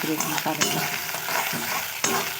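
Frying in a kadai stained from earlier fish frying makes a loud, close, continuous sizzle with bursts of crackle, broken by a few scrapes of a spatula. Someone speaks briefly over it.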